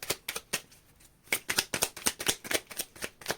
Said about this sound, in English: It looks like we've got last shuffle.